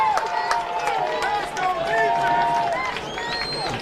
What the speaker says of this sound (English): Just kind of hear the crowd starting to pick up a little bit.